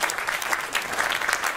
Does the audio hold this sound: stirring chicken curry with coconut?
no